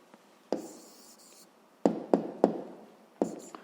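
A pen writes an answer to a fifth-grade maths exercise on paper, giving a handful of sharp taps and short strokes separated by pauses, close and quiet, with no voices.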